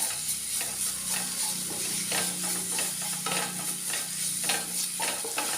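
Masala stirred with yogurt in a hot pan, a continuous soft sizzle broken by rhythmic scraping spoon strokes, close with no voices.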